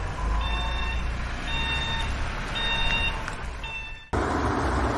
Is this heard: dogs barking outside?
no